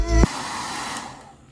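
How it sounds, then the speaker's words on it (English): A hair dryer blows with a steady airy whoosh after a brief louder hum at the start, fading slightly toward the end. "And then I take my blow dryer and I'm gonna dry this hairspray so it's not wet anymore"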